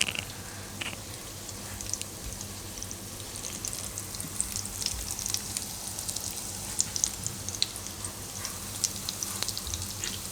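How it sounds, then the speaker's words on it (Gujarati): Soya banana tikki shallow-fry in a little oil in a pan over medium heat, giving a steady, fine sizzle and crackle with scattered pops, close and fairly quiet, with no one speaking. "તો બે બાજુ શેકી લેવાની. તો એકદમ ઓછા તેલમાં બની જાય છે."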